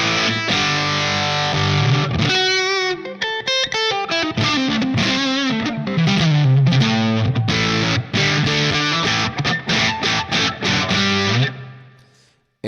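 Distorted electric guitar through a Line 6 Pod HD500's Plexi Lead model of a Marshall Super Lead 100 at gain 70, loud crunchy chords and a descending lead run, then choppy stabs before cutting off.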